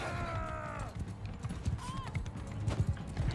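Horse hooves clip-clop in a steady, close rhythm in the video game Mount & Blade II: Bannerlord, with a brief whinny-like tone early on and scattered creaks over continuous hoofbeats.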